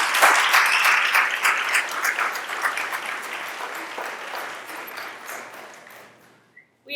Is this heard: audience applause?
yes